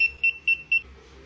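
Key finder alarm sounding from a phone app, four short high-pitched electronic beeps in an even rhythm, close and clear with a faint low hum underneath and no talking.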